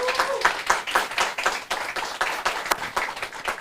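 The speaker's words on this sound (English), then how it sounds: "So big round of applause" An audience claps at the close of a theatre-company event, the claps landing in a fairly steady, rhythmic beat of separate sharp hits, moderately loud and close for several seconds with a brief voice at the very start.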